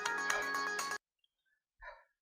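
A mobile phone ringtone for an incoming call in a TV serial scene trills loudly for about a second and cuts off, followed by silence and one brief soft tone.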